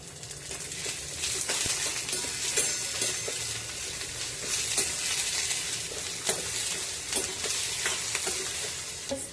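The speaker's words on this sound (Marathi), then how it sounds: "कांदा परतत असतानाच त्यामध्ये पाच ते सहा लसणाच्या पाकळ्या एक हिरवी मिरची आणि थोडंसं आलं हेचून घालत आहे ते सुद्धा व्यवस्थित परतायचं आहे" Onion, garlic, green chili and ginger sautéing in a pan, a steady loud sizzle with repeated scrapes and clicks of a spoon stirring close by.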